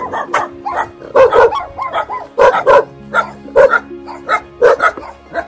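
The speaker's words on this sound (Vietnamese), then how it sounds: "Đây cũng có nuôi mấy con chó nè." Several dogs kept at a rural house bark repeatedly in loud, close bursts, with some yips and whimpers between the barks.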